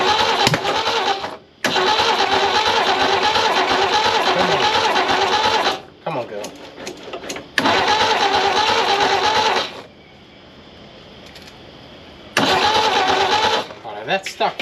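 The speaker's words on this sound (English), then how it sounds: "It's backfiring out the exhaust and it's popping out the stuck valves" An old abandoned Holden ute with stuck valves cranks over in several long bursts, the starter churning loudly and the engine coughing and popping back through the exhaust, with short pauses and quieter gaps between attempts.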